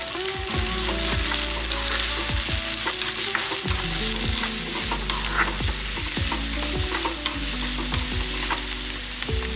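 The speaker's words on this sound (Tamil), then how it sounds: "ரெண்டு கைப்பிடி அளவுக்கு பெரிய வெங்காயத்தை கொஞ்சம் பெருசு பெருசாகவே போட்டு வதக்கிக்கலாம்" Large onion pieces sauté in hot oil for tomato kurma, a loud continuous sizzle overlaid by repeated scraping stirs of a spoon against the pan, close-up and with no talking.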